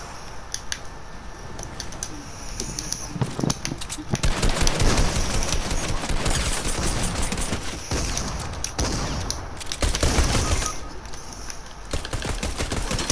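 Pistol gunfire in Fortnite, a busy spread of repeated sharp shots and clicks of varying loudness, with dense firing in the middle and scattered shots toward both ends.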